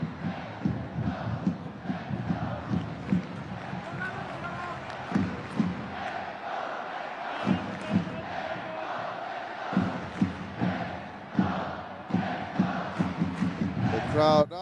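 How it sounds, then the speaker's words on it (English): Football stadium crowd at a J League match between Kawasaki Frontale and Shimizu S-Pulse, a distant massed roar of rhythmic chanting urging a goal, sustained and swelling, with a commentator talking over it. "The crowd asking for a goal."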